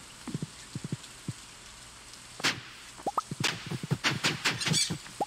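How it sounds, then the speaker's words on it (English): Rain falling in the video game Stardew Valley, a soft wash of patter broken by scattered drips and short chirpy game effects, no talk over it. "it's raining"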